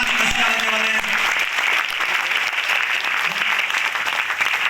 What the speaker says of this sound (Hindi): ताली बजाइए, टीसी छाबड़ा जी मसीहा होने वाले हैं।